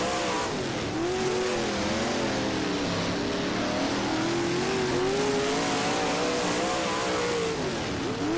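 Big-block race cars roar around the Lawrenceburg oval in the rFactor racing game. A loud, constant engine drone rises and falls in pitch through gear changes and throttle shifts, with faint tire noise and no talk.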